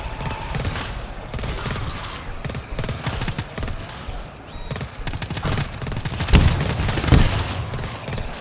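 Turret fire in the video game GTFO: a continuous, dense rattle of gunfire running throughout, with a couple of heavier impacts near the end and no talk.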